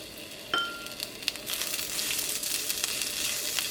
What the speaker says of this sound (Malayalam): ഇതെല്ലാം കൂടിയിട്ടൊന്ന് വഴറ്റിയെടുക്കുക.